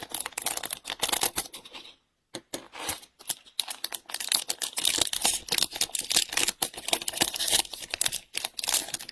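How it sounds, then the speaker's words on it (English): A Topps Heritage 2023 trading card pack is snipped and torn open with a pair of scissors, close crinkly foil crackles and rustles running almost continuously with one short pause. "I gotta use a pair of scissors for this."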